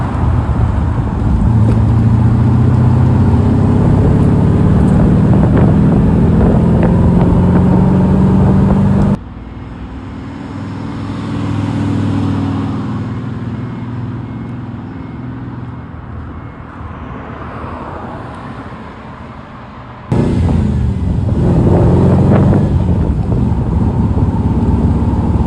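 A Morgan Plus 8 car drives by, its engine droning loudly with heavy wind rush, then easing into a quieter stretch of rumble before the loud engine and wind noise return near the end.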